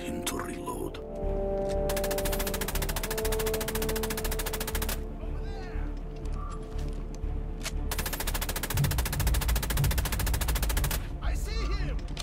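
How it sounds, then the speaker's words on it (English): Machine gun fire rattles in the video game Assassin's Creed Chronicles Russia, with long loud rapid bursts separated by brief pauses, mixed with game music and shouting voices. "Machine gun!"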